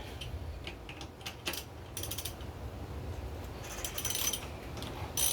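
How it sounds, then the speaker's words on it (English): A socket-set ratchet undoes the brake caliper bolts on a motorcycle. It gives off quiet mechanical clicking and ratcheting against a steady background hum, close by and with no speech. "We've got 2 bolts here to undo for our calipers. And we'll do that now. So grab your socket set and away you go."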